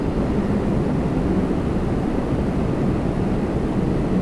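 Boeing 777 landing on runway 24 left at Toronto Pearson, heard as a steady, broad low rumble of jet noise that holds evenly throughout, with no voices.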